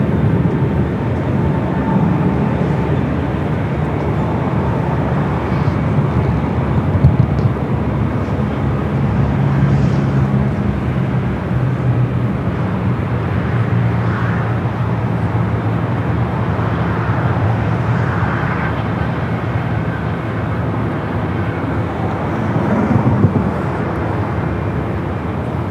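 A Boeing 787-9 Dreamliner at LAX gives a sustained, moderately loud jet rumble with a steady low drone and faint swells, with no voices heard.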